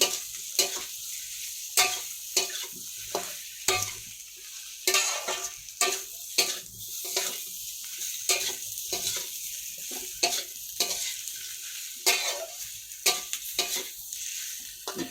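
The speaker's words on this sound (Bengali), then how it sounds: "কষাচ্ছি আলু বেগুনটা মশলা দিয়ে" Potato and brinjal being sautéed with spices in a pan: repeated stirring scrapes and clinks of a spoon over a steady close sizzle of frying, in an irregular rhythm with no voices.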